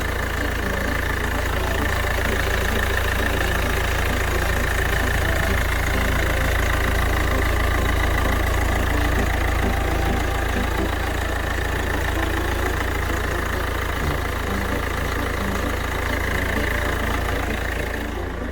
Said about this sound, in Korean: 엔진룸을 열어 엔진 소리를 들어봐도 이상이 없다는 것을 알 수 있죠